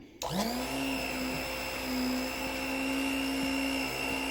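A VEVOR milkshake maker motor starts abruptly and spins up to a steady, loud whine that holds without pause, close by and alone.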